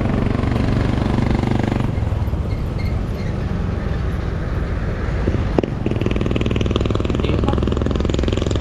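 Morning traffic on a service road in Bicutan, Philippines, with motorcycles, private cars, tricycles and vans making a loud continuous engine rumble and drone nearby, a brief sharp clank midway, no talk.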